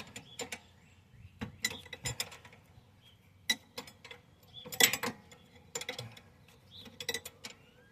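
A 19mm bolt on the rear brake caliper of a 2009 Nissan Maxima is tightened, giving quiet, close, irregular mechanical clicks and creaks from the wrench in short scattered bursts.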